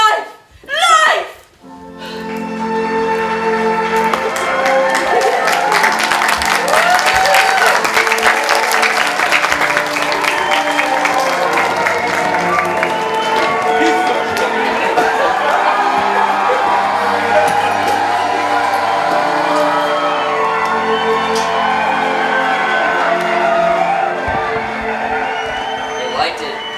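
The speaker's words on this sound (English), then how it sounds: "They're still clapping." Theater audience at a college stage production applauding and cheering, loud sustained clapping with whoops and shouts that builds quickly and carries on for nearly half a minute, with some voices mixed in.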